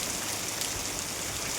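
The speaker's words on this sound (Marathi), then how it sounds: "पाऊस खूपच डेंजर आहे बघा. काय पूर्ण झोडपलाय ना पावसान" Heavy monsoon rain pours down in the Konkan region, a dense, constant roaring hiss with no pauses, loud and enveloping from start to finish.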